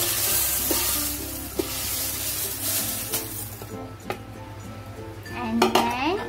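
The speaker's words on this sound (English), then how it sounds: "stir cornflakes" Cornflakes are stirred into a bubbling spicy salted egg mixture in a pan over medium heat, with a steady sizzle, scraping and occasional clinks of a utensil against the pan, close and alone.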